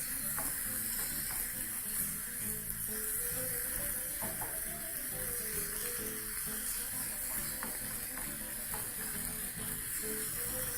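Onions fry in a pan with a steady, soft sizzle that runs continuously, with faint clicks and stirring scrapes now and then.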